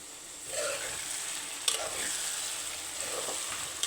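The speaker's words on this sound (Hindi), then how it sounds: "मैंने जो है भिंडी का फ्राई होने में इसको लगे थोड़ा सा टाइम" Okra (bhindi) frying in a home kitchen pan: a soft, steady sizzle with occasional scraping of a spoon against the pan, moderately close and with no voices.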